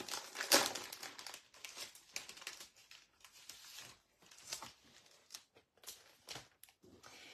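Shining Brightly 12x12 specialty paper pack with gold foiling being handled, giving close, crisp crinkling and rustling in irregular bursts, with one sharper crackle near the start and quieter shuffles in between.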